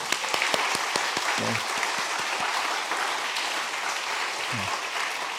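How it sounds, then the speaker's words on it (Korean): A church congregation applauds newcomers at a Sunday mission service, steady sustained clapping from many people with a few sharp claps standing out, with faint voices briefly underneath. "우리 큰 박수로 환영하겠습니다"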